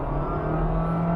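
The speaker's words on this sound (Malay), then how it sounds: "kita tekan maksimum, baru dia start enjin" Honda City RS hybrid petrol engine firing up under full throttle, a steady droning hum from inside the car, brief and continuous.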